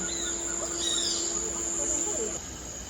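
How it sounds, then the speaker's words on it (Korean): Birdsong plays from a loudspeaker in an indoor botanic park in Seoul: thin high chirps and trills, fairly faint, over a steady hum of room noise, with no talking during it. "스피커에서 새소리가 나고 있어."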